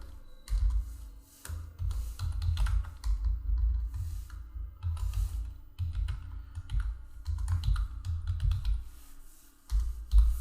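Keys clatter in quick, irregular runs of clicks as someone types on a computer keyboard while filling in an online GST SPL-02 waiver form, with short pauses between bursts and a low hum underneath.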